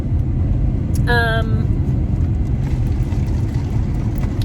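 A car being driven on the road, heard as a steady low cabin rumble with a brief high tonal sound, like a chime, early on.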